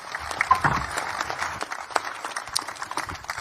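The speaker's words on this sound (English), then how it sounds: "Big round of applause." A crowd at a Pro Motocross preseason press conference in Pala, California applauds steadily, a dense wash of clapping that holds at even loudness for a few seconds.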